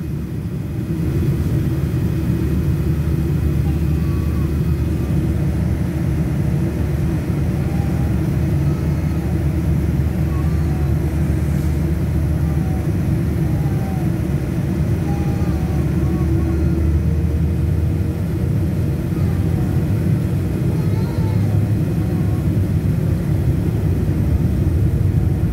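Boeing 787-8 jet engines during the takeoff roll, heard from inside the cabin as a loud, steady low roar that holds constant throughout.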